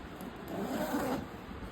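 A zipper on the pocket of a Rynox Magnapad motorcycle tank bag is pulled open in one close, scratchy rasp lasting about a second, with no talking.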